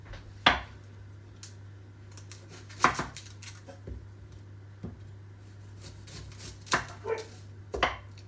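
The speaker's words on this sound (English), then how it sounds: "With your onion, you're going to chop the bottom off" A knife chops through an onion on a board in a few separate sharp thunks spaced irregularly, with a steady low hum underneath.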